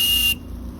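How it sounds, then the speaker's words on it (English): A steam whistle fitted to a StirlingKit RW-BL1K live steam model engine gives one short, shrill, steady blast that cuts off abruptly, leaving a low hiss and hum behind it. "Obviously the whistle doesn't come with it, but it's a very easy modification to make if you like whistles"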